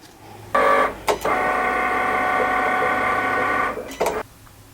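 A Cricut cutting machine scoring lines on paper gives a steady mechanical whir with tonal motor hum, bracketed by short clunks as the carriage starts and stops, close and alone.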